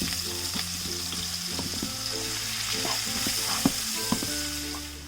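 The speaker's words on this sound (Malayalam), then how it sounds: "ഇതിലേക്ക് നമ്മൾ ഈ അരിഞ്ഞു വെച്ചിരിക്കുന്ന സവാള ഇട്ട് വഴറ്റി കൊടുക്കാം." Chopped onions sautéing in hot oil with whole spices for a fish dum biryani, a continuous close sizzle with repeated spoon scrapes and occasional sharp clinks against the pan, no talking.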